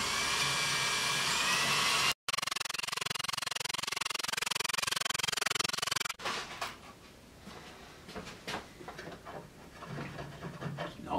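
A 6.5mm brad point bit drills into reclaimed wood for a shoe rack: a steady, loud motor whine runs for about six seconds, briefly cuts out, then stops. Softer scraping and handling noises follow.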